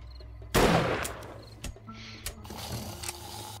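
A rifle fires in the zombie survival game 7 Days to Die, one loud sharp blast followed by a few quieter, shorter reports and scattered game noise, with no talking.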